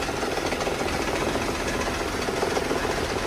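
Maruti Alto engine idling with the AC on and misfiring, a loud, steady mechanical drone with rapid uneven vibration and slight fluctuation, heard close without any talk.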